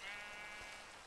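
Sheep bleating in the Minecraft video game, a single steady, faint game-audio bleat lasting about a second.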